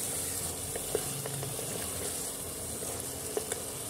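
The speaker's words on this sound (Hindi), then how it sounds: "हमारी प्याज बहुत अच्छे से भून गई है।" Onions fry in oil for a Shahi white stew, well browned and giving off a steady, soft sizzle, with a few light clicks from stirring scattered through.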